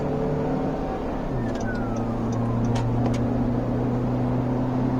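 A 2012 Honda Civic 1.6 i-VTEC 125 hp with a CVT, accelerating, heard from inside the cabin as a steady, even engine drone under constant road and wind noise.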